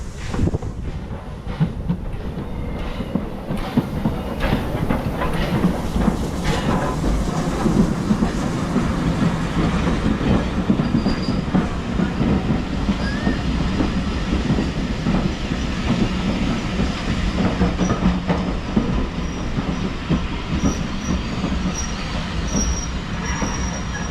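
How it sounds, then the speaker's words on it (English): An Isle of Wight Island Line train rumbles into a station with a continuous heavy roll, wheels squealing and rattling as the cars pass close by. "this is the train coming in"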